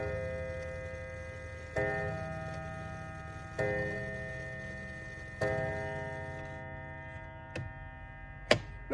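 A vintage 1950s Mauthe Art Deco mantel clock ticks with a steady, evenly spaced beat over a faint electrical hum, close and clear, with a few sharper clicks near the end.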